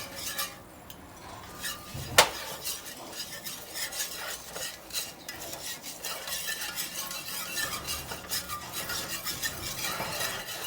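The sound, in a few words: stirring flour roux for breakfast gravy in a pan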